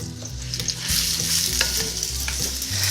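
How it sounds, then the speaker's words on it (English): Onions frying in a little oil in a pan for a tomato sauce, a loud continuous sizzle and crackle close up with occasional stirring clatter, no voices. "A little bit of oil. Let's put some onions."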